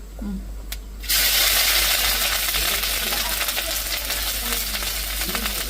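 Vermicelli (semiya) stir-fried in a pan for a late-night dish, with a loud, steady sizzle that starts abruptly after a quiet moment and holds close and continuous, broken by occasional scraping stirs.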